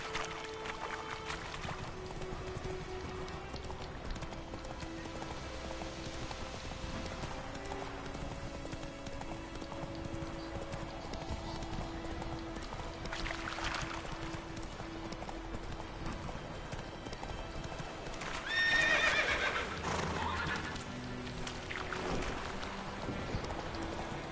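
Horse Roach's hooves clip-clop steadily in The Witcher 3, a continuous galloping rhythm with a brief louder splash-like burst near the end.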